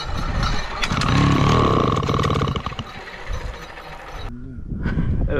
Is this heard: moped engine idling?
yes